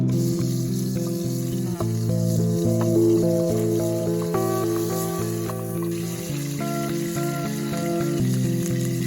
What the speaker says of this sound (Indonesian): Jadi saat pagi harinya kami tinggal menggoreng saja nasi yang sudah dimasak semalam.